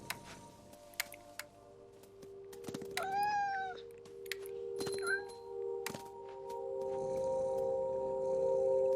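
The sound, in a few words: cat meowing in video game What Remains of Edith Finch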